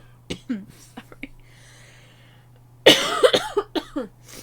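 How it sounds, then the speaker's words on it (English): Several sharp coughs break out, a few scattered early, then a loud, harsh burst followed by a run of quick repeated coughs nearby. "Why are you coughing so much?"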